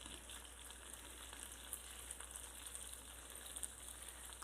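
Chicken thighs fry in a pan for teriyaki chicken, giving a steady, faint sizzle and crackle with small pops and no talking.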